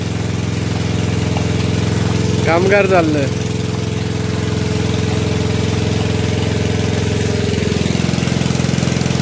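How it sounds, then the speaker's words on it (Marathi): A diesel engine driving a water pump straight into a flooded paddy field runs at a steady, loud idle throughout, with a brief voice speaking over it partway through. "आता पंप बंद करून टाकला. डायरेक्ट इंजिनच लावून टाकला."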